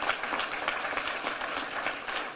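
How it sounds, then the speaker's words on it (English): Steady crowd applause at a police press conference, many hands clapping at once in a dense, continuous wash with no voices over it. "let's give our command staff a round of applause"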